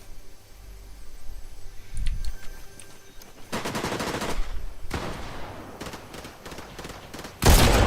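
A Mammoth pistol fires in a Fortnite match, with several sharp, loud gunshot bursts and a rapid volley of gunfire sounds in the game's soundscape, close and punchy, no talking.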